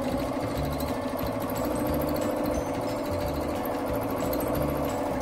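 A sewing machine runs continuously while free-motion quilting with cotton batting, a close, steady rapid needle chatter with a rhythmic mechanical pulse and no talking over it.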